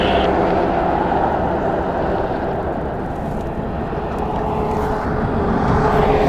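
A departing airliner roars at Las Vegas airport, a broad, steady rumble of jet engines that holds loud and constant throughout with no voices.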